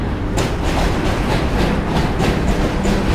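A train rumbles past close by in New York City, a loud, continuous roar with rhythmic clickety-clack of wheels over rail joints throughout.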